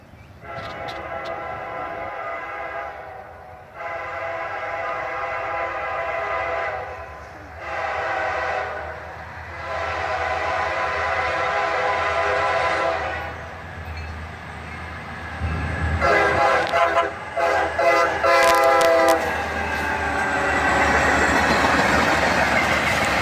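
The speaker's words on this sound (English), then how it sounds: "this highball southbound train gave us an epic horn show" Southbound highball freight train sounding a long horn show, with repeated extended blasts and short breaks, over the steady rumble and clatter of passing rail cars, heard loud from trackside.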